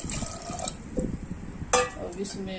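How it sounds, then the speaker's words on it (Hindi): Water is poured into a pressure cooker holding chickpeas for chole, with brief splashing and filling sounds close by under someone speaking. "अब छोला बनाने के लिए चना को कुकर में डाल देते हैं, इसमें पानी डाल देंगे जो अच्छी तरह से डूब जाए"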